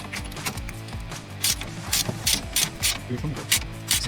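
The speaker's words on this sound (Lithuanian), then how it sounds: "Tam, kad ją išimti, mums reikia nusimti šitą varžtą ir čia gale varžtą." Ratcheting mechanical clicks and metallic tool rattles from loosening the stabilizer link bolts on a Volkswagen Golf Plus, a quick uneven series of close clicks and clanks with workshop noise, no talk.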